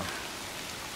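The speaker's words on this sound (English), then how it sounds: "Oh, it's raining" Steady rain falls in the video game Fatal Frame 5: Maiden of Black Water, a dense, even hiss of drops on surfaces filling the whole second with no gaps and no voices.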